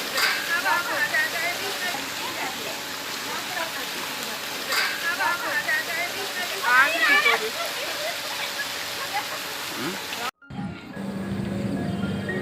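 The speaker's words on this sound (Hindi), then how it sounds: "और अभी आप सामने देख रहे हैं आर्टिफिशियल झरना बनाया गया है" An artificial waterfall in a park gives a steady, loud rushing splash that runs continuously, with birds chirping and people talking over it, before the sound cuts briefly near the end and returns.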